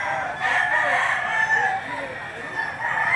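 A yellow-legged gamecock crows loudly and close by in one long, sustained call that fills the clip, with no talk over it.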